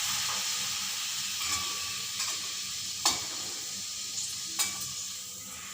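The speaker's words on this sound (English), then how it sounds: "And again, one more papadam I'm frying." Oil sizzles and hisses steadily as a papadam fries, with a few sharp clicks and scrapes of a utensil against the pan.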